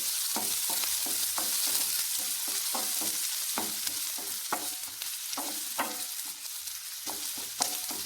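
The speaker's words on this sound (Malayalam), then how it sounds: "നമ്മളൊരു എടുപ്പത്ത് വെച്ച് എണ്ണ ഒഴിച്ചിട്ടുണ്ട് നമ്മൾ സവാള ഇട്ട് കൊടുക്കാം" Onions and green chillies sautéing in hot oil, a constant loud sizzle with rhythmic scraping strokes of a spoon stirring the pan, close up and with no talking.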